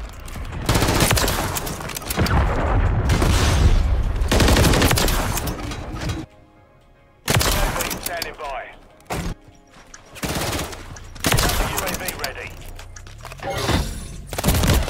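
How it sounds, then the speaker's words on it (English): Cruise missile explosions and heavy gunfire in Modern Warfare 3, loud sustained bursts of automatic fire and blasts broken by brief quiet gaps, with voices shouting over the chaos. "Hostiles launched a cruise missile."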